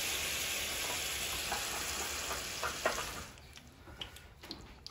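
Oxtails with onions and peppers sizzle in a pan as brown sugar caramelizes, with a steady close fry that fades partway through, leaving scattered soft pops and light stirring clinks.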